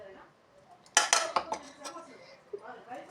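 A spoon clinks against a bowl as a spice mixture with coarse ground pepper is stirred. There are a few sharp metallic taps in quick succession, then softer scraping, all fairly quiet and close.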